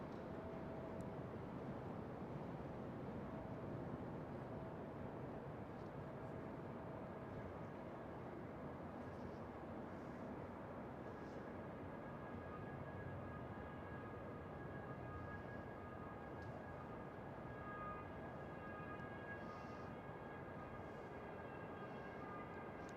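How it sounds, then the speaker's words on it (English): A Douglas DC-3 approaching to land on the eastern runway at Amsterdam Schiphol gives a steady, droning propeller-engine rumble that holds at an even level, distant but constant, with no talk over it. "It is indeed the DC-3, I can see right now."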